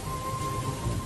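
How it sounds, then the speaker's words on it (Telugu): Rain pours steadily with a low thunder rumble beneath it in a brief, loud stretch of a Telugu TV drama scene, with no talking and a faint steady tone running through. "కృష్ణక్క వర్షంలో తడిసిపోతుందక్క"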